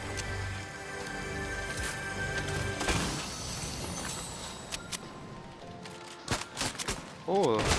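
Video game gunfire, several sharp shots and bursts from a shooter match over a busy game soundtrack, clustered mid-clip and near the end, with a player talking at points.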